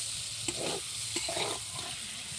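Mankochu with small puti fish stirred and sautéed in a pan, a steady close sizzle broken by a few scraping spoon strokes.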